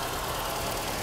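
Mercedes-Benz W123 230E with mechanical fuel injection idling, a steady, even broadband engine hum heard briefly and at moderate distance.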